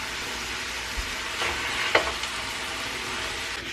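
Tacos for lunch frying in a pan in a home kitchen, a steady broadband sizzle running throughout with a couple of brief clinks and stirring scrapes partway through.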